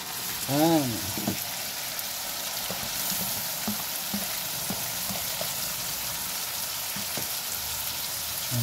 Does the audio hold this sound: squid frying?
yes